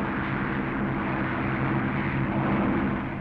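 A wartime RAF fighter aircraft engine just after take-off, a loud, continuous, dense roar that holds steady throughout with no voices.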